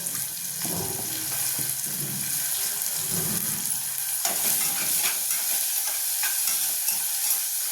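Onion and tomato softening in a pan with salt and bay leaf as they are stirred: a continuous close sizzle, broken by scraping and stirring strokes, with a wet bubbling texture throughout.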